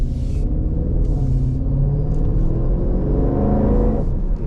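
Jeep SRT engine in sport mode pulling under acceleration from the driver's seat, a steady loud low rumble and motor drone that holds throughout with no talk over it.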